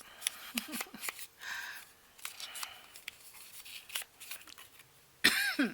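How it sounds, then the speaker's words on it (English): A couple of soft coughs and throat-clearing sounds close to the mic, mixed with light rustling and a sharp louder noise at the end. "every once in a while those coughs will sneak up on me"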